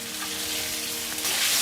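Green peas drop into hot oil with bay leaves, dried chillies and cumin, and a close, strong sizzle rises and swells louder toward the end, without any talking.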